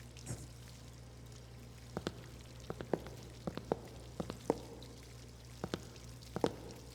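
Running water in a school girls' bathroom in Spirit Hunter: Death Mark II comes through as scattered soft drips and splashes over a steady low hum, faint and without talk.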